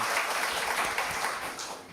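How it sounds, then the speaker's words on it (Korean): A church congregation in Osaka claps together after a choir and worship team performance, a dense, moderately loud burst of applause that fades toward the end. "감사와 영광의 박수 다시 한번 올립니다"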